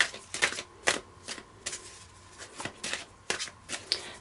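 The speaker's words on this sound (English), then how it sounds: "I'm just going to pull an angel card as well." Angel oracle cards being shuffled at close range: a series of quick, papery riffling bursts in an uneven rhythm, with brief quiet gaps between them and no voices.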